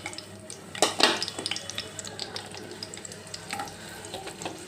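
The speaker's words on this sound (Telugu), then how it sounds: "అవి కొంచెం మగ్గిన తర్వాత ఉల్లిపాయ ముక్కలు వేసుకోవాలి" Onion pieces frying in a pan, a steady low sizzle with a few louder stirring scrapes near the start and scattered clinks of utensil against the pan, no talking.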